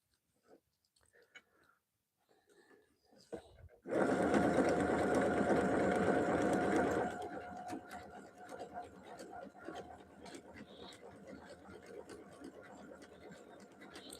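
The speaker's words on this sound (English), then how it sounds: "So I'm sewing right where the 2 cotton fabrics meet, and just keeping the presser foot center." A sewing machine stitches two cotton fabrics for farmhouse tea towels, starting with a loud steady whirring run of about three seconds, then continuing more quietly under scattered light sounds.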